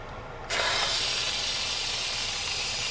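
Steam bursts from an Instant Pot vent release while cooking collard greens, a sudden loud hiss that starts abruptly and continues steadily, close and alone.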